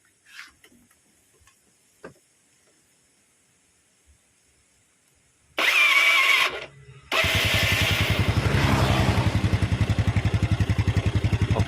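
After some quiet clicks, the starter of a Yamaha Mio scooter with a slipping starter whirs briefly, then the engine catches and settles into a steady, rapid, close idle.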